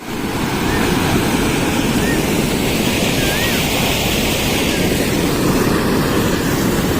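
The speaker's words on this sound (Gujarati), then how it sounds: "આ પાણીનો કઈ ફ્લો જોરદાર ફ્લો છે કઈ લિમિટ બહારનો ફ્લો આવે છે જોરદાર પાણી ઉપરથી પડે છે" Strong, fast-flowing water pouring down from above at an outdoor spot near the Hanuman temple at Ghaludi Dham, a loud, dense, steady roar that continues unbroken from start to finish.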